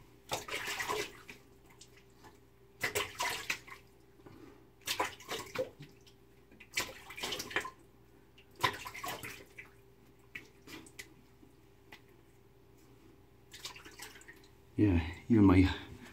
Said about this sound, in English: go ahead and rinse my face and prep my face for pass number two